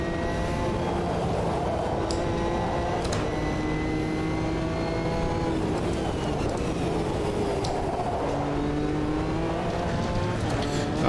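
Metalmoro AJR P1 prototype race car engine in Automobilista 2 at Road America: a loud, continuous engine drone that rises and falls as it revs through gear changes, with no talking.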